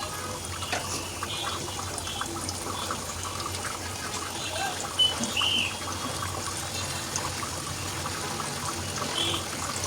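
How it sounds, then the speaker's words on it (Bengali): Water is poured into a pan of katla fish curry with vegetables as it cooks, making a continuous close trickling and filling sound that runs steadily for about ten seconds. "তারপর আমি ঝোলের পানি অ্যাড করব।"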